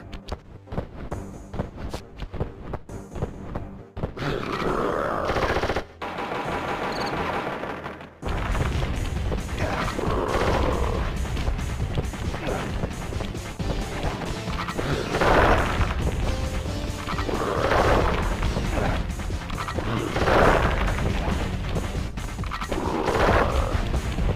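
In the Sly Cooper video game, a gun fires and is smashed, giving repeated booming crashes and impacts over a dense, continuous game soundtrack.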